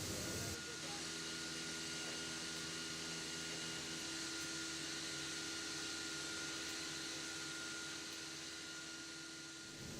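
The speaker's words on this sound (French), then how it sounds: "Cette machine nous permet d'avoir une découpe du bois et une précision de l'ordre du dixième" A wood-cutting CNC machine runs with a steady, continuous mechanical whir and hiss, holding an even level throughout with no breaks.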